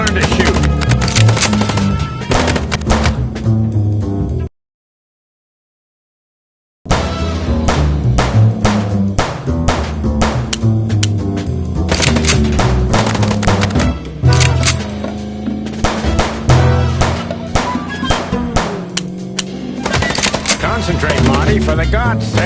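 Rapid gunfire rattles through a Chicken Police shootout in dense, sharp bursts, breaking off for a couple of seconds of silence before the rapid shots resume at close range.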